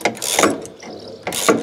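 A hand ratchet clicks in two quick bursts of rapid pawl ticks while tightening a rear shock absorber bolt on a Microcar Virgo, close and fairly loud, with a short pause between them.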